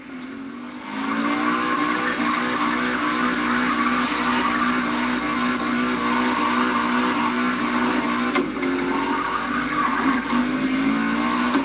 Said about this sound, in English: drifting in a tunnel is not as easy as it looks